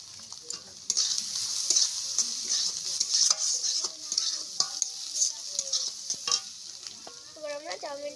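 Garam masala being stirred into egg noodles frying in a pan for a village-style Bengali egg chowmein, with steady sizzling and repeated scraping, clinking stirs of a spoon against the pan.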